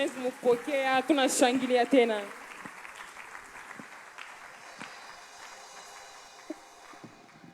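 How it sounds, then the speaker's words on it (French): A church congregation applauds and cheers as the pastor goes up to the pulpit, with lively clapping and voices during the first two seconds, then fading to scattered noise and quieter room sound. "est-ce qu'on peut le recevoir avec des grandes acclamations?"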